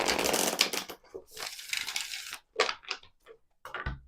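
A deck of cards is shuffled close up in a quiet room, giving bursts of riffling and flicking with short pauses between them.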